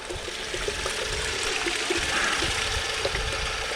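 Steady running water splashes and pours continuously while a bucket is washed out after cleanup sluice work at a creek, loud and close with no talk.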